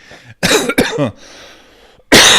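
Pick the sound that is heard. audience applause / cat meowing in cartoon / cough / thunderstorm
cough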